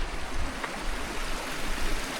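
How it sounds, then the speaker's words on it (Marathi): A mountain stream rushes through a lane in Chitkul village in the Himalayas, a steady, close, broadband flow of water with no voices. "कंटिन्युअसली पाण्याचा स्रोत आहे. पहाडमधून जेवढं काय पाणी येतं हे या ठिकाणी खाली येतं."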